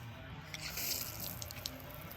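Garden hose nozzle set to shower, spraying a steady hiss of water outdoors with faint dripping, moderately quiet and continuous.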